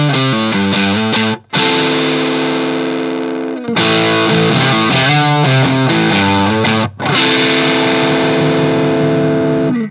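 Electric guitar run through a KMA Fuzzly Bear fuzz pedal, gain at noon, plays thick saturated chords and riffs, loud and close, with two brief pauses between passages.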